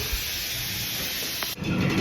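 Steam hisses steadily from a pressure cooker whose whistle has been lifted open while dhokla steams in a kadhai, a broad continuous rush that swells louder toward the end.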